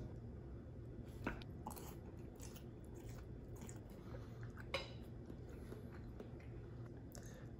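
Someone tastes miso carbonara, with soft chewing, a couple of light utensil clinks and faint crunchy bites, all quiet and close over a steady background hum, and no talking.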